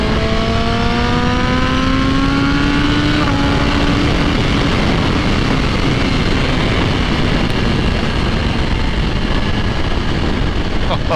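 A 2020 BMW S1000RR motorcycle accelerates hard at high RPM, its loud engine note rising in pitch through the gears with steady wind roar, close and continuous, and a voice talks over it.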